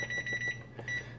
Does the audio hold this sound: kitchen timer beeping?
yes